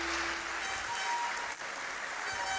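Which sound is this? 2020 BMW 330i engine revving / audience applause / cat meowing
audience applause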